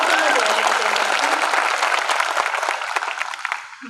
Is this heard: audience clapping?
yes